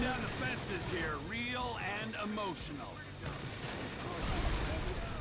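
Rapid bursts of Grand Theft Auto V gunfire crackle continuously, with voices talking over the shooting throughout.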